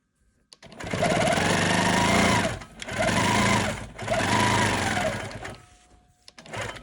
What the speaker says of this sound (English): now I'm ready to add my next strip and quilt the other one